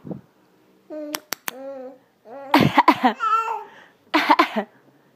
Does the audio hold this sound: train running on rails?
no